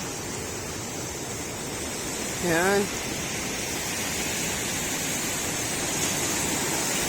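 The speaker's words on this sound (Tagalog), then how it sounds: "Malakas ang alon ngayon kaya hindi tayo pwede maligo." Strong ocean waves on a beach in Pagudpud make a steady, broad roar of surf throughout, with one brief spoken word partway through.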